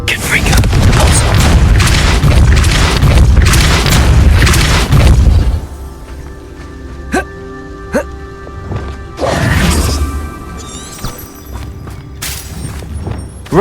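Booming spell blasts and magical impacts from the Hogwarts Legacy video game, a dense run of loud bursts that gives way to quieter chimes, whooshes and scattered pops, with speech mixed in.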